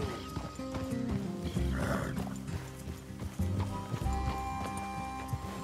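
Horses in the Red Dead Redemption 2 video game, hooves clip-clopping in an uneven rhythm close by, with snorts and shuffling amid a low ambient bed and occasional faint talk.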